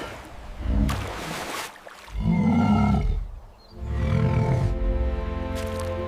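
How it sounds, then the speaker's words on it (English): A moose calls in three deep, drawn-out groaning bellows separated by brief pauses, loud and close, with a rough, resonant tone. "It's a moose."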